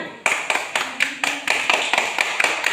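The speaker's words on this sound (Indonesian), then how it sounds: "tepuk tangan untuk kelompok 1" A classroom group claps in unison for a team after a geometry quiz, a steady rhythmic series of sharp, synchronized hand claps, about four per second, close and moderately loud.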